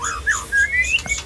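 A male white-rumped shama (murai batu) whistles a short, clear, rising and sliding song phrase, loud and close, alone with no talk.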